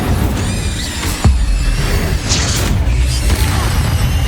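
Incendio fire spell effects in the Hogwarts Legacy game during a fight with spiders: a loud, dense rumble of booms and crackling bursts, with a sharp thud near the middle and scattered high chittering over it.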